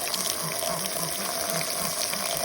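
Water running steadily into a pet's water bowl after the old water is dumped out, a continuous close hiss and splash with no talking.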